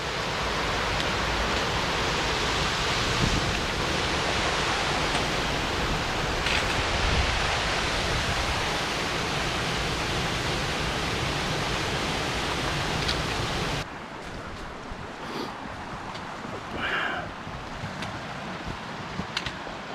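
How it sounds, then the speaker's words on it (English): A strong waterfall on a creek beside a Dolly Sods hiking trail roars loud and steady for most of the stretch, then gives way to a softer, nearer trickle of flowing water near the end. "That is impressive waterfall."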